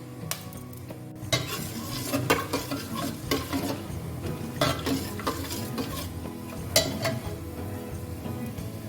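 Whole garam masala spices crackle in hot oil while a spoon scrapes and knocks against the pot, sharp irregular clacks and stirring strokes over a low sizzle, close and without speech.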